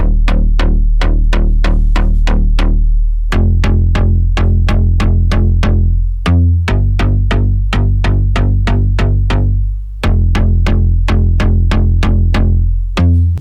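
A loud, sustained synth bassline from a Spire preset repeats a simple three-note major progression, with steady rhythmic plucks and no voices.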